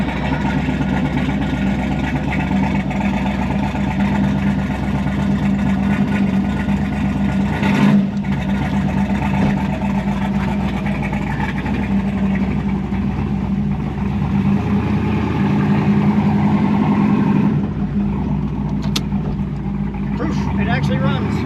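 A 1969 Torino car engine runs steadily for the whole stretch, a continuous mid-low drone with a brief surge near the middle. It sits under a radio playing in the background.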